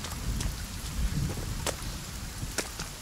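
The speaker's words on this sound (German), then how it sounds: "weil es regnet" Rain in the Sons of the Forest video game falls steadily in a soft hiss of drops, with a few sharper droplet ticks standing out, moderately loud and without voices.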